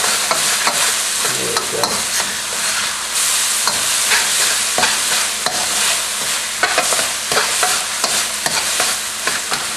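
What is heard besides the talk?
sautéing shallots, ginger and garlic in a pan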